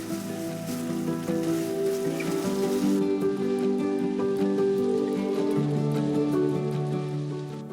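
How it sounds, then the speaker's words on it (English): Garlic chili noodles with soy sauce sizzle steadily in a pan over medium heat, a dense, even crackle that runs without pause, with a faint humming tone beneath. "Turn the heat up to medium and saute for 2 to 3 minutes."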